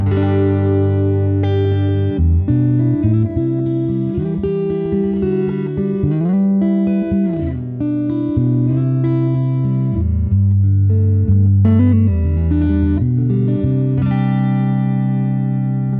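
Clean electric guitar on a Fender Telecaster playing chords and single-note lines, warm and sustained, close and fairly loud with no voices.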